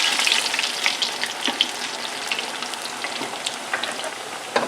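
Plantain slices for Cuban tostones crackle and sizzle in hot oil, a dense steady frying hiss with scattered pops, heard close up with no speech.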